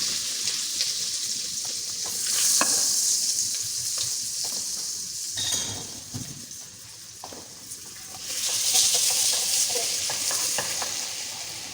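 Mutton korma with ginger and garlic sizzles and is stirred in a home kitchen pan, a steady frying hiss that swells loudly in two bursts with scraping clatter between, no voices.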